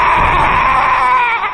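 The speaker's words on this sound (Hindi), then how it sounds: "पूरे असाइलम में चीखे ही चीखे गूंजने लगती है" Screams echo through a haunted asylum in a Korean horror film, a loud, sustained high wail that wavers and trembles for the full stretch, sounding close and raw with a cry-like quality.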